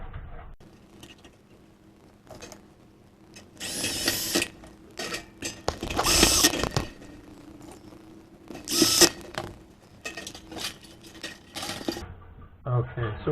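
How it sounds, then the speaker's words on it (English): Screws are driven into a tin firestop kit for a Case IH 8010 waste gate version. A power driver whirs in several loud bursts between quieter stretches, with clicks and rattles in the gaps. "I just put 3 screws in"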